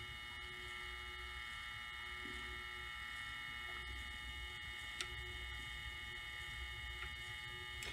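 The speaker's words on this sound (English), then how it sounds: "Now as you can see, the gear motor is spinning back." Elliptical trainer gear motor spinning back to its lowest resistance setting, a faint steady mechanical whir with occasional small ticks and clicks, heard alone and quiet throughout.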